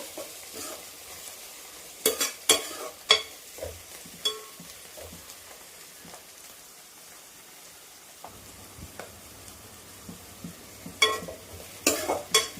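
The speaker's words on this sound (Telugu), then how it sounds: "ఇంకొక 5 మినిట్స్ వేయించుకున్నాము." Bitter gourd and tomato curry frying in a pan, with close spatula stirs and scrapes coming in scattered bursts over a quiet, steady sizzle and no talking.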